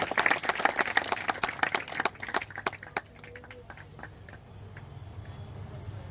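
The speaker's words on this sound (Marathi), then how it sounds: "आपण सर्वजण टाळ्या वाजून चंद्रशेखर गवळींचं अभिनंदन करूया" An audience claps to congratulate a Maharashtra Kesari wrestler at a public felicitation in Malegaon. The applause is loud and dense at first, then thins to scattered claps and fades into a murmuring room.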